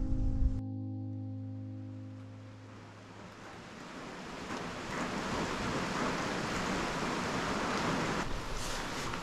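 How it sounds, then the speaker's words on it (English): Steady rain on the Appalachian Trail near Deep Gap Shelter, a dense, even hiss that settles in after a brief low hum cuts out at the start and holds unbroken for the rest, with no one speaking. "Well, it's raining"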